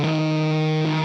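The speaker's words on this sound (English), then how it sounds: "So one thing that I now added was this electric guitar" A distorted electric guitar layered over a sampled beat holds a single sustained, buzzing note for about a second, loud and alone.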